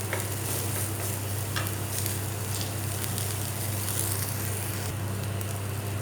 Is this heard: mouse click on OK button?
no